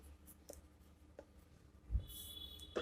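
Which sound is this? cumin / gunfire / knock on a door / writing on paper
writing on paper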